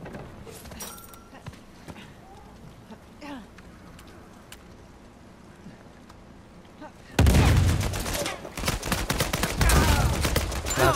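Distant scattered gunshots in Uncharted 4: A Thief's End under quiet background, then a sudden loud burst of rapid gunfire and explosions dominating the second half, with a voice briefly audible.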